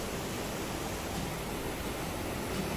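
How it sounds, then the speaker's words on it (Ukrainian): Water of a low, cascade-type waterfall pouring over rocks and boulders, a steady broadband rush filling the whole moment without pause, close and even in level. "оця велика кількість води, яка проходить через ці каміння, через ці скелі, вона такий робить шум"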